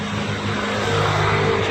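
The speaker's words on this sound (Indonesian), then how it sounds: "mesin pengeroknya" A dredging machine's engine drones steadily and loudly while it deepens a river. The low mechanical hum holds an even tone, with broad noise above it.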